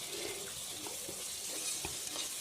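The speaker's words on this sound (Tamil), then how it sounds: "இஞ்சி பூண்டை ஆட் பண்ணிக்கோங்க. அதையும் போட்டு நல்லா வதக்குங்க" Onions with ginger and garlic sauté in a pan, giving a faint, steady sizzle broken by soft, irregular clicks of stirring.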